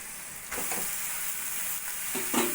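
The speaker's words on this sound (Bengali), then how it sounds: "মোচা ভালো করে মশলার সঙ্গে মিশিয়ে নেব" Boiled banana flower is stirred into tomato masala frying in a pan. A quiet, continuous sizzle is broken by a few soft scraping stirs, close by with no talking.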